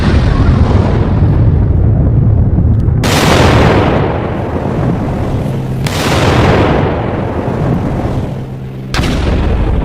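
Several heavy blasts from an Israeli strike on an Iranian missile site, three sudden loud broadband booms about three seconds apart, each rolling into a long rumbling decay over continuous low roar.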